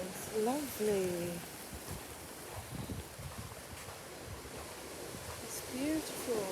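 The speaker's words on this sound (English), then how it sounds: "And all the way that the water's coming in there." Waves wash onto a small rocky beach as a soft, broad surf hiss with gusts of wind buffeting the microphone, while voices talk briefly at the start and end.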